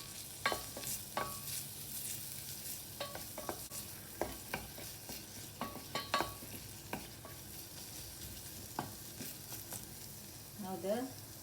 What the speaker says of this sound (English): Adding about 1 teaspoon of butter. Once butter melts, add the minced garlic.